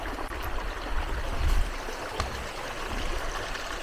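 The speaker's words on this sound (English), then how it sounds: "You probably hear the water behind me." Steady broadband rush of flowing water from a mountain creek with a waterfall nearby on a Laramie Peak hike, continuous and fairly even with no voices.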